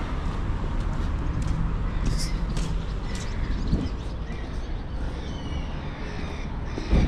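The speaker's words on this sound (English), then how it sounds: "Hear those birds? That tells you summer is about." A few crows caw outdoors in a Latin American setting, faint calls scattered over a steady background of wind and traffic-like rumble.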